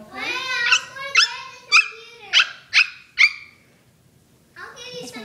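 A person imitates a frightened dog, voicing a run of five or six short, high whimpering yelps in quick succession, close and loud, then a pause before another whine begins.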